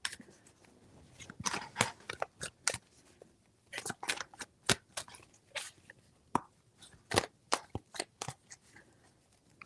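Tarot cards being shuffled by hand, four separate bursts of crisp riffling and slapping, close and fairly quiet with short pauses between them and no talking.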